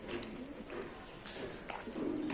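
On a rooftop where Adana pigeons are being fed, a flock coos in low rolling phrases, with pecking, flutters and bursts of rustling around them.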